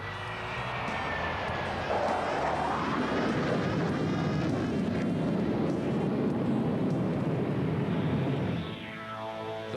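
An F-14 swing-wing fighter jet flying at an air show, a loud sustained roar with a shifting, sweeping pitch that drops away near the end.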